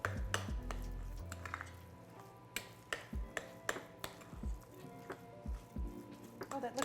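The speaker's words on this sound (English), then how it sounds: "So we're going to mix that again." Filling of lemon rind and other ingredients for zucchini roll-ups stirred in a bowl, with soft scraping, clinks of a utensil against the bowl and wet squishing in an irregular rhythm, close by, with voices talking at the start.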